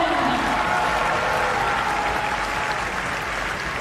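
Big sustained crowd cheer and applause at a women's 400m hurdles athletics championship heat, a dense, steady roar filling the stadium from start to finish without letting up.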